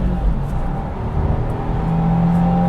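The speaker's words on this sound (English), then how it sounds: "That engine sounds pretty good." A 2022 Subaru WRX with a six-speed manual accelerates, its engine giving a steady, loud drone with a slowly rising pitch, heard from the cabin with no talking.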